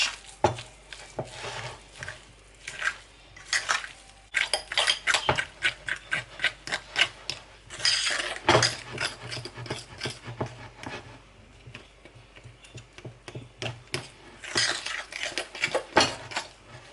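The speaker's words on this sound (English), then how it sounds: "I am using my fork to mash this quickly while it's still hot" A fork mashes hot potatoes in a bowl with quick repeated scraping and tapping strokes in bursts, close and moderately loud, with brief pauses between runs and no talking.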